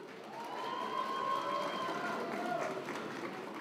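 A crowd at a Democratic Party rally in Daegu claps steadily after a candidate's speech, a soft, even wash of applause heard from some distance with a faint tone ringing over it.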